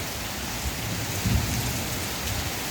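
Heavy, steady rainfall pours down during a long storm, a dense constant hiss with low rumbling thunder swelling briefly in the middle, fairly loud and continuous with no voices.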